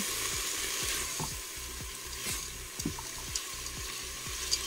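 Washed lentils sautéing and browning in a pan for lentil soup, a soft continuous sizzle with repeated low scraping strokes of stirring, plus faint watery trickling in the background.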